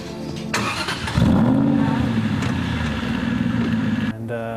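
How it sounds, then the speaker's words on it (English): A deep V8 sports car engine rumbles and revs up, holding a loud, throaty drone for several seconds before dropping off, with a voice briefly audible. "Sounds like a V8, proper good noise."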